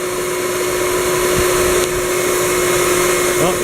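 Shop vacuum hose pulling suction on a clogged central AC condensate drain line, a loud steady roar with a constant tone throughout and faint gurgling near the end.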